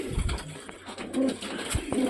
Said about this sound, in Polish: Mam jednego gołębia, który mi tam do siatki wchodzi